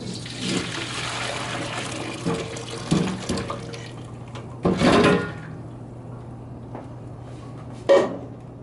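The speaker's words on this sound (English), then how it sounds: "Now I'm going to drain the hot water." Hot water from a pot of cooked potatoes pours out and splashes into a sink, surging in bursts over a steady low hum, then trickling off between splashes.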